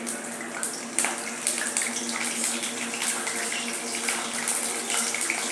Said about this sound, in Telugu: చింత చిగురు కడగాలి శుభ్రంగా.